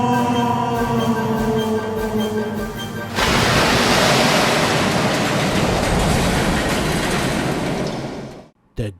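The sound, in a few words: diesel locomotive plunging off a cliff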